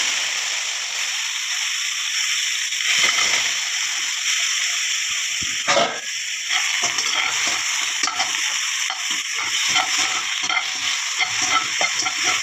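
Cleaned raw prawns cook in a pan with no oil, a constant bright sizzle and hiss running throughout, with occasional scraping stirs and light sloshing.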